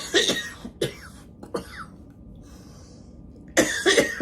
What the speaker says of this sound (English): Got that nagging cough today again